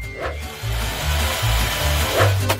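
An electric drill runs nearby with a steady whirring motor drone and a wavering low hum, plus a couple of brief rubbing, scraping bursts, with no talking.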